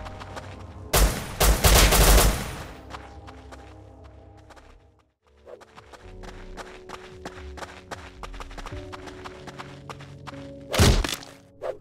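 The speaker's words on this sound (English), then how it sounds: "then I heard some shooting" Gunfire in the Rust survival video game: a loud burst of rapid automatic shots early on, a quiet gap, then scattered distant shots and thuds before another sharp close burst near the end.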